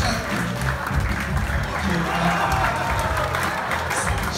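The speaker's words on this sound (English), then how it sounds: "Shelly, big round of applause" Audience applause and cheering for Shelly, a volunteer at a comedy show, a steady crowd roar with low rumbling and some voices mixed in throughout.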